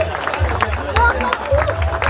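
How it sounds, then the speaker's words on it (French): A crowd applauding and cheering the Maxi Edmond de Rothschild sailing crew as they reach the finish line, with steady clapping and murmuring throughout and a public-address voice over the top. "je vais vous demander d'applaudir encore une nouvelle fois l'équipage du Maxi Edmond Rothschild"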